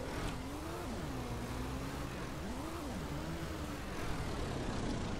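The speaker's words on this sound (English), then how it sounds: "Good Lord, that tractor's fast." A tractor engine in the farming game Ranch Simulator drones steadily at speed, its pitch wavering up and down as it revs, a constant close hum with no talking.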